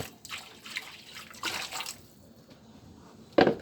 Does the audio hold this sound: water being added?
yes